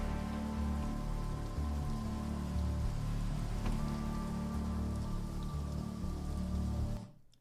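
Steady rain in a nighttime city scene with neon lights, a continuous close patter and hiss of drops on surfaces that cuts off abruptly at the end.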